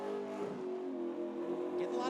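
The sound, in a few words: NASCAR race car engine revving at rev limit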